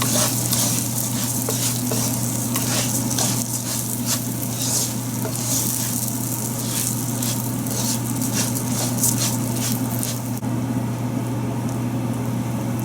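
Rice fries in a pan over medium heat, giving a dense, even sizzle with crackling and a faint stirring scrape, plus a low steady hum beneath throughout.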